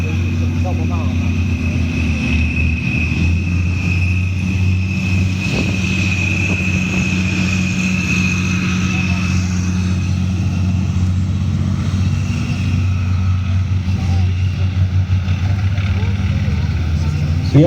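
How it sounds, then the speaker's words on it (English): An M110 self-propelled artillery vehicle drives around an arena, its engine a steady low drone with a faint whine that stays constant throughout while someone talks over it. "The M110 that's actually driving around the artillery piece in the middle"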